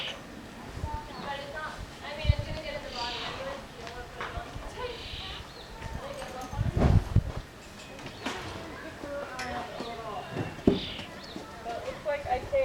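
A horse's hooves clip-clop in scattered, uneven knocks outdoors during a plein air painting session, mixed with a person talking and other background sounds.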